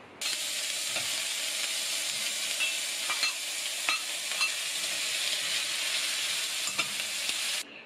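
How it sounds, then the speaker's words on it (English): Onions and mushrooms stir-fry in a hot pan, a steady bright sizzle running throughout with faint scraping taps of a utensil every so often, close and constant until it cuts off near the end. "加入洋葱和香菇翻炒。"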